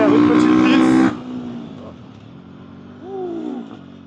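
Motorcycle on a racetrack trying a slide, with a loud engine roar at first that cuts off sharply, then fainter engine and tyre sounds rising and falling, with someone talking over it.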